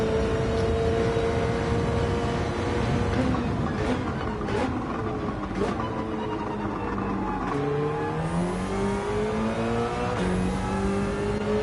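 A race car in Gran Turismo on the Dragon Trail Gardens circuit in wet weather roars continuously and loudly, its engine pitch climbing and dropping through gear changes with no voices.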